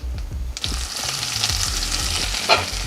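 Onions and garlic sizzle in hot oil with cumin and fennel seeds for a tomato curry, a steady close crackling fry with occasional stirring scrapes and a brief louder spatter near the end.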